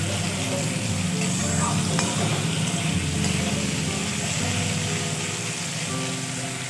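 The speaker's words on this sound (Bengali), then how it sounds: "আলুটা আমি খুব সুন্দরভাবে এখানে ভেজে নেব।" Potatoes frying in a pan with salt for a vegetarian papaya, potato and chana dal dish, a loud continuous sizzle with stirring scrapes, close and steady throughout.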